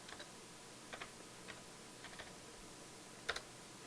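Computer keyboard keys tapped while entering a zip code into a search box, a few quiet, irregular clicks in small clusters, with one sharper pair of taps near the end, over a faint steady hiss.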